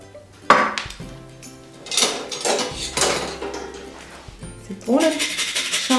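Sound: adding rum to yeast dough in a bowl

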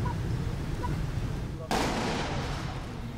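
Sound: M2A1 105mm artillery guns firing ceremonial rounds

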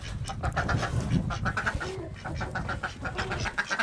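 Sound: chickens and ducks on a farm

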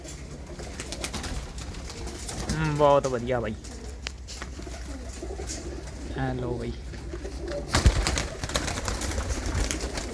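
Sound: grey desi pigeons cooing

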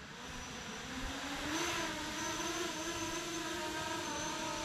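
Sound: 7-inch FPV drone flying

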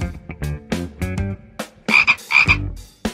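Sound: frog croaking

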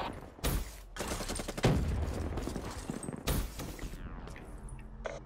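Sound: rapid gunfire in a video game

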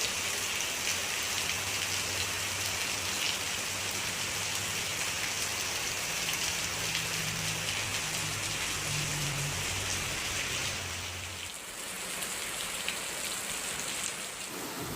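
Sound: heavy rain falling on the house roof

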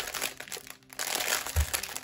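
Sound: diamond painting kit packaging rattling

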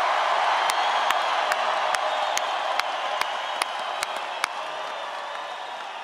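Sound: crowd applause

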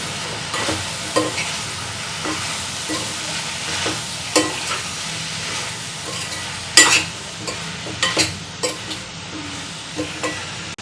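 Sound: stirring bitter gourd curry after adding salt

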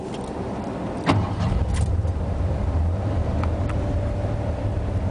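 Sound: 1986 Ford F150 fuel-injected 302 engine cold starting

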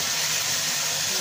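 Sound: hot fried topping sizzling as it is poured onto soup

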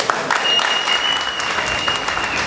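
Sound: audience applause at boxing event

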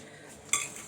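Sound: stirring eggs and sugar in a bowl

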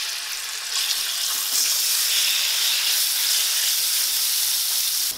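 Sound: meat frying in oil in a pan

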